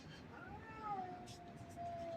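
A faint, drawn-out meow from a cat, rising then sliding down in one long cry, heard at a distance outdoors with no talk.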